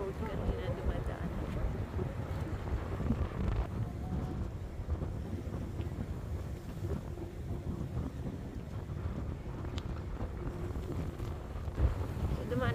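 Strong wind buffets the microphone on an afternoon walk beside the river Seine, a steady low roar running throughout with faint talk and passing activity beneath it.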